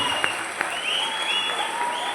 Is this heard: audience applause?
yes